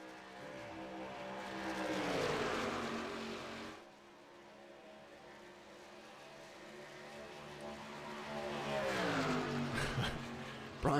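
Race cars from a No Limit Thunder Series event roaring past on an oval track, two loud engine passes with rising and falling pitch separated by a quieter stretch of distant engine drone.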